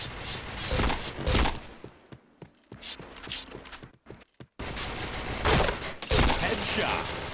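Bursts of gunfire in the first-person shooter game Point Blank, rapid loud volleys separated by brief quiet gaps, with clicks and mechanical clatter in between.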